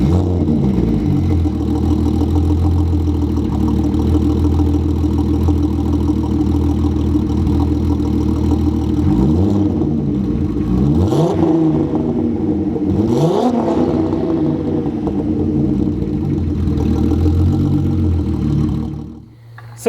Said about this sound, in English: So the exhaust is a custom 304 stainless steel exhaust, turbo back with a Miltech muffler on the back.